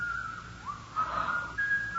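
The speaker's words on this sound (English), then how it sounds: "There's that whistling again." Eerie whistling in a radio mystery drama: a thin, wavering tone rises and slides in pitch, fading in and out against a quiet, hollow background.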